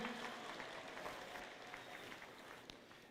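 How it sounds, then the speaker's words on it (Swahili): Applause for a Deputy Inspector General at a live Kenyan state event with President Ruto and other leaders, a faint, distant wash of clapping from a crowd lasting a few seconds. "Makofi kwake."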